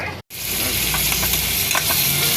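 Cooking oil goes into a hot pan for corned beef with potatoes, producing a loud, steady sizzling hiss that runs nearly throughout after a brief gap near the start, with faint clicks under it and no talking.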